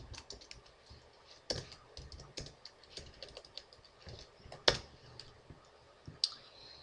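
Code goes into a computer keyboard for a Unity3D multiplayer project, with rapid, irregular key clicks and a few louder keystrokes. The typing sits close and quiet, with no talking over it.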